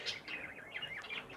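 Ornamental birds chirp busily in an aviary, a dense run of high, quick tweets close by, with no talking.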